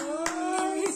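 A small child claps her hands three times at an even pace, sharp and close, over a steady tonal hum in a home kitchen.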